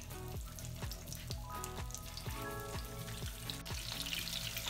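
Breaded tofu coated in barbecue sauce frying in oil, a quiet, steady crackling sizzle with soft popping bursts, heard alone without talk.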